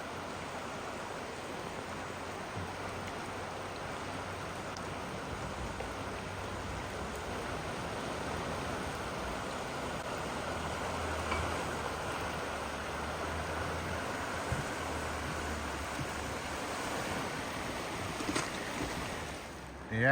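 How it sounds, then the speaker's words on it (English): River rapids rushing in a steady, broad roar outdoors near Clayton, Georgia, continuous and fairly loud with no one talking. "Yeah, rapids."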